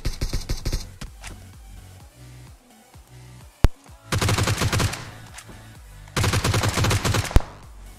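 Rapid automatic gunfire crackles in a battle royale match, several bursts of rattling shots separated by brief lulls, with single sharp cracks in between and game sounds underneath.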